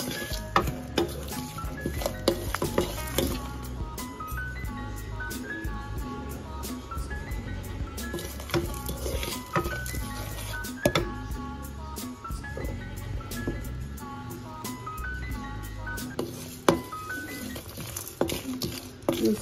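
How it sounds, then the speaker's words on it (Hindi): Whole spices dry roasting in a pan for garam masala make a steady light crackle and patter, with frequent stirring scrapes and clinks of a utensil against the pan throughout. "तो अब मैं इन सबको हल्का सा ड्राई रोस्ट कर रही हूँ।"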